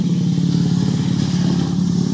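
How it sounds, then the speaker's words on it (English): A motorcycle passes on a road in Greene, New York, its engine a loud, steady, close drone with a throbbing low hum throughout. "Motorcycle passing."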